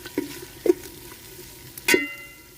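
Ginger garlic paste frying in a pan for an Andhra village-style gongura country chicken curry, with a low steady sizzle broken by three sharp stirring scrapes, the last one loudest.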